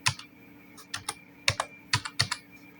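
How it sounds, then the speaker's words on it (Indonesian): Computer keyboard keys pressed repeatedly, including the Tab key, with crisp plastic clicks in an uneven rhythm. The presses are close and fairly quiet, with no talk over them. "lalu tekan lagi tabnya yang ada di keyboard untuk mengetikkan halaman"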